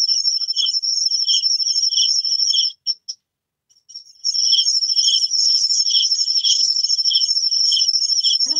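Crickets chirp steadily in a continuous high trill at night near solar lights, breaking off briefly partway through before resuming just as loud.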